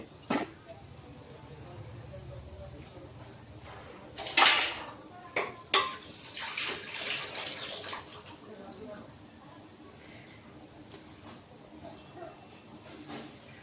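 Lalmohan sweets lifted out of a pot with a utensil, giving scattered metallic clinks and scrapes in a cluster mid-way, under a low background hum and faint kitchen noise.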